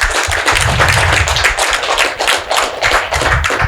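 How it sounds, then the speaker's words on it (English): Close, loud audience applause at a fireside chat with Belizean leaders, many hands clapping in a dense, uneven patter with a few thumping claps near the front. "So let's give them another round of applause."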